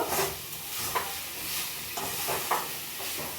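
Chicken curry with chilli powder, meat masala and a little sugar being stirred over raised heat in a pan: a steady sizzling hiss punctuated every second or so by scraping, clattering spatula strokes.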